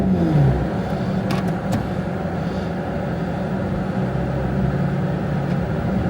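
A Porsche 911 GT3 runs on a rolling road dyno, its engine a steady, fairly loud drone with broadband mechanical roar and little change in pitch throughout.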